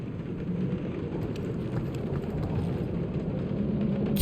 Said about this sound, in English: Of course. It had to be raining.